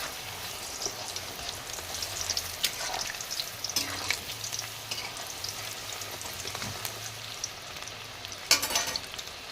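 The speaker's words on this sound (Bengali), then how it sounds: "তোমার জন্য ফ্রেঞ্চ ফ্রাই ভাজছি" Homemade french fries sizzle in hot oil, a steady crackling hiss with occasional louder pops and stirring scrapes, close and continuous, with a low hum beneath and no talking.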